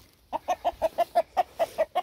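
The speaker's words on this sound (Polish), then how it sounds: "Kogut." A rooster clucks in a steady run of about ten short, evenly spaced calls, close and clear, in a snowy winter farmyard near its coop.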